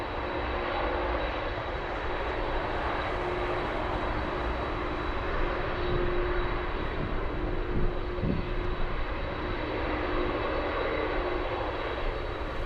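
An airplane at gusty Anchorage airport roars with steady broadband engine noise and a faint whine, heard continuously from a distance with wind buffeting and no voices.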